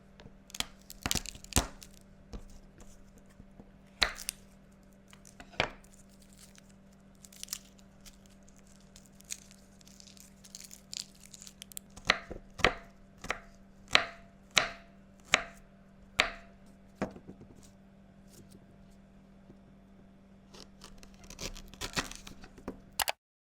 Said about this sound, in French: j'ai mis mon petit micro histoire de vous laisser avec des petits bruits de nourriture